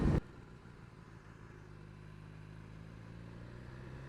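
A BMW S1000RR or S1000XR sport motorcycle engine idles low and steady at low revs, a smooth continuous rumble heard up close after a short burst of noise at the start.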